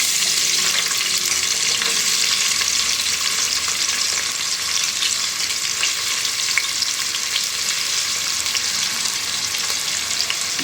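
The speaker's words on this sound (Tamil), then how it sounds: "அந்த பிரியாணி இலை, பட்டை, லவங்கம், ஏலக்காய், ஒரு ஸ்டார் பூ இதெல்லாம் சேர்த்து வச்சு அது பொரியும் போதே" Bay leaf, cinnamon, cloves, cardamom and star anise fry in hot oil for biryani, making a steady, bright crackling sizzle close up with light stirring and no voices.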